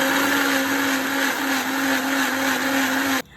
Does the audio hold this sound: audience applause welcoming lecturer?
no